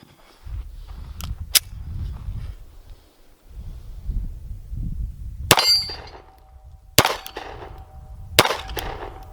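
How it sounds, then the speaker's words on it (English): A Sig Sauer P365XL pistol fired at a range, a handful of sharp distant shots, each followed by a ringing metallic clang of a steel target, with low rumbling handling noise between. "run a few more rounds, and see what happens"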